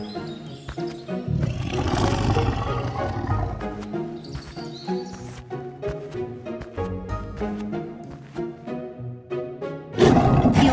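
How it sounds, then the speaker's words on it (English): A cartoon lion gives a quick roar inside a musical animated soundtrack. The roar is layered over busy music with a steady beat, and a louder burst comes near the end. "He let out a quick roar and no animal came."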